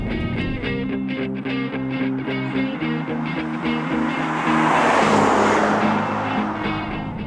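A Jaguar XF R-S Sportbrake engine pulls hard while driving, its deep harmonic growl stepping through rising revs and then swelling into a louder, broad roar, with no talking over it.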